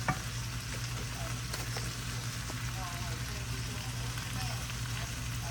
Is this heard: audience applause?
no